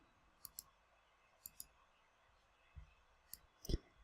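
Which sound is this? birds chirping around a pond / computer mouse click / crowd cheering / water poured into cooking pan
computer mouse click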